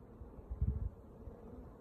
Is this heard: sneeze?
no